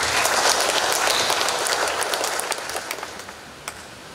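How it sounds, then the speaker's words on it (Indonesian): A crowd at a farewell and welcome ceremony for a regional religious affairs office head in Central Sulawesi claps loudly and densely, the applause thinning over the final seconds into scattered individual claps. "Ini tidak cukup dengan tepuk tangan"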